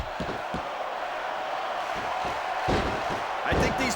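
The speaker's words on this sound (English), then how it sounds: "I think these superstars are getting some feedback from the crowd, JR." Arena crowd noise from the WWE SmackDown vs Raw 2006 video game: a steady roar of spectators reacting to wrestlers, swelling near the end with a few sharp impact sounds.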